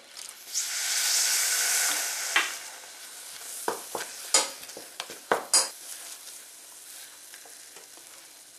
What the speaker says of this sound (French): quand ça commence à bouillir, il faut le remuer pour éviter que ça colle au fond